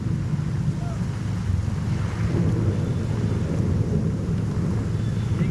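A heavy thunderstorm in Vijayawada roars with strong gusting wind, a constant deep rumble and a steady wash of rain, loud and unbroken throughout.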